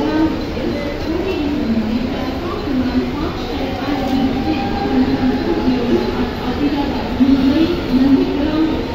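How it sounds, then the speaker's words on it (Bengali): A train rumbles steadily through Dadar East station in Mumbai, a continuous loud rolling drone with wheel and carriage noise, close by and unbroken throughout. "ট্রেনটা যাচ্ছে।"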